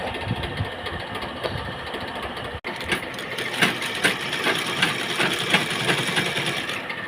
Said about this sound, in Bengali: তাহলে আমার এই সেলাই করবো,